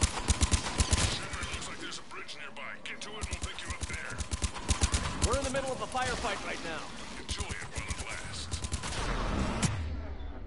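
Bursts of gunfire from a firefight in the video game Mass Effect 3 crackle in rapid volleys throughout, under a voice speaking at moderate level.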